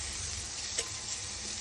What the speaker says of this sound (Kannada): ಚೆನ್ನಾಗಿ ಮಿಕ್ಸ್ ಮಾಡ್ಕೊಂಬಿಡಿ